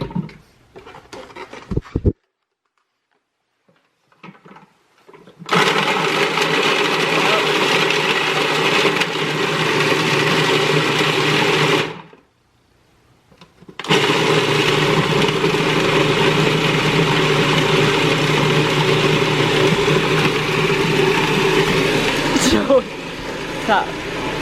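A kitchen blender whirs loudly in two long runs with a brief pause between them, mixing cut-up apricots, coconut and sweetened condensed milk, and a voice can be heard faintly at the start.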